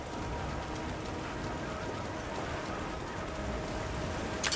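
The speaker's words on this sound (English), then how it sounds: "The rain's really coming down." Heavy rain pours down in the video game Monster Hunter Wilds, a steady, loud, unbroken hiss of downpour filling the whole stretch.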